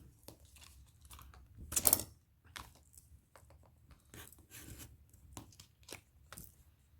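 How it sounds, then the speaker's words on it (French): An old craft cutter knife slicing through scrapbooking paper for a photo album, a sharp tearing rip near the middle with softer scraping strokes before and after, close and fairly quiet with no talk. "moi, mon cutter, il est pas terrible, hein, puisqu'il est vieux."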